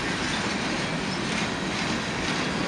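A CN freight train rolls steadily past with Pan Am Railways cars mixed in, giving a continuous loud rumble of wheels and rail noise with no pauses.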